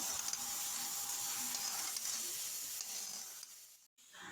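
Urad dal fries golden in a pan with a continuous close sizzle and hiss while it is stirred, then drops to a brief silence before the sizzle returns.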